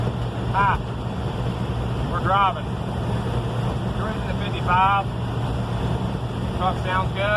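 A 1972 Dodge truck with a Hemi engine cruises along the road at around 55, its engine droning under steady rushing road and wind noise while voices talk over it in short bursts.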